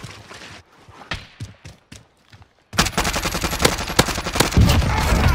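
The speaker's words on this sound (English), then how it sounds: "Receiving hostile fire." Rapid bursts of gunfire crack in Call of Duty Warzone, first scattered single shots and then a dense, loud stream of automatic fire, with no talking over it.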